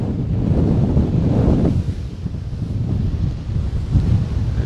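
Strong wind buffeting a microphone at the beach, heavy low rumbling gusts that swell and ease over a faint wash of surf, loud and close, no voices.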